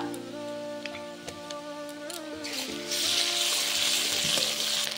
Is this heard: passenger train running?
no